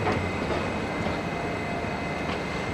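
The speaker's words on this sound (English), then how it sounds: "And now we're on the Madrid Metro." Madrid Metro train riding underground, with a steady, loud rumble and rattle of the carriage and wheels filling the whole stretch, no voices.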